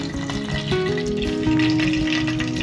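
Oil sizzling and frying in a pan with butter, heating for fish, a steady hissing crackle that holds throughout and grows slightly louder midway, with faint clinks and stirring beneath.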